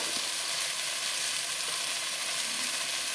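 Ginger paste and spices with water hit a hot pan for an even, loud, continuous sizzle that holds steady with no talking.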